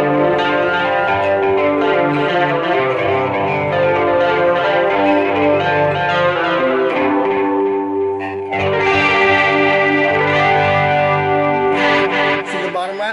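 Electric guitar dialed in for a signature-style tone, with chorus, delay and reverb, playing loud, ringing arpeggiated chords that shimmer and echo, with a brief break before the playing resumes.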